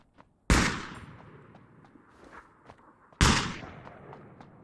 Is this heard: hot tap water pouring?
no